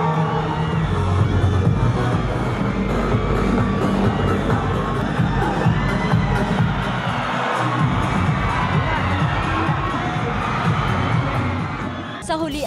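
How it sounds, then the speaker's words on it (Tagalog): A large crowd cheers and shouts continuously in a big echoing gymnasium during a pageant, with excited whoops and children's voices rising in a constant loud roar. "Mas lalo lumakas ang hiyawan sa buong gymnasium"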